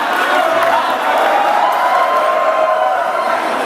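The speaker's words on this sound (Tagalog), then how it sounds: "may pumapalakpak doon" A live audience at a rap battle event fills the space with a steady roar of crowd noise, cheering and clapping that stays loud and unbroken throughout.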